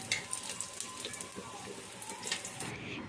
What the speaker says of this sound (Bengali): এখন শুকনো লঙ্কা আর রসুনটা ভালো করে ভেজে নেব